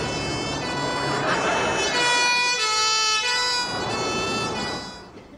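An ambulance siren wails loudly and steadily in a sitcom scene, its rising and falling tone continuing for several seconds before fading at the end, with faint voices beneath it.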